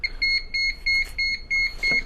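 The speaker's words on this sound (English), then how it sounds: "this is normal for it to be beeping." An NX Series security control panel emits a repeating series of short, high electronic beeps in a steady rhythm, about seven in two seconds, clear and close.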